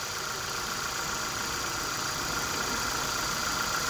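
Daewoo Gentra car engine idling steadily, a constant close hum with an even low rumble throughout and no change in pitch.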